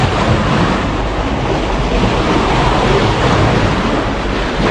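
Continuous broadband wash of ocean waves, loud and steady throughout with no pauses, surf rushing close against a pier in Rotterdam, with a faint wind rumble.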